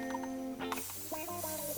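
A quick spritz from a spray bottle, a short airy hiss following a faint tonal sound.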